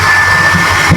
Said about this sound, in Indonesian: di sini ada hand dryer